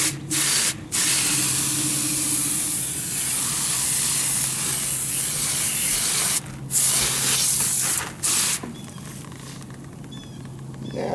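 Coil cleaner being hosed and sprayed onto an HVAC coil gives a steady, close hiss of water spray that runs for most of the stretch, broken by a few short pauses and easing off toward the end.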